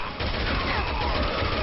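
Gunfire from Resident Evil 6, a dense, steady barrage of shots running through the whole moment at loud, close range.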